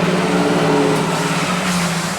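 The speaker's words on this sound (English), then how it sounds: "That loud ass bus" Loud bus passing close by on a city street, a dense sustained roar of engine and road noise with a steady tonal hum that swells slightly midway, no talking.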